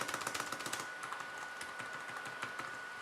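Keys on an Alcatroz Air Pad 1 non-mechanical keyboard, pressed hard, clack in quick irregular bursts, a fairly quiet, close typing rattle with brief pauses between flurries.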